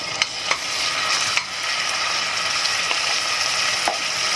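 Onions sizzle in hot melted ghee in a pan, a continuous bright frying hiss. A few sharp clicks and scrapes from a utensil cut through at intervals.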